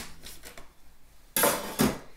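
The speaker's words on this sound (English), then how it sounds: "This is one trick that bakers use sometimes to push all the stuff down, is use one of these bench scrapers" A metal bench scraper scrapes debris across a baking deck in a kitchen while French crullers are being made: faint scraping at first, then two loud, close, harsh metallic scrapes.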